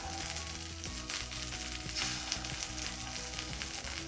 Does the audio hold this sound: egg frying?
yes